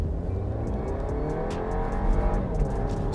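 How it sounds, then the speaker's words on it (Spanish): A Volkswagen Tiguan Elegance in Sport mode accelerating at full throttle from a standstill, its turbocharged engine droning steadily and building in pitch, loud and close inside the cabin, with no talk. "Lo primero es mostrarles la aceleración."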